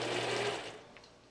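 A sewing machine runs a short back stitch while piecing a boomerang quilt block, a steady mechanical whir for about a second before trailing off, close and alone.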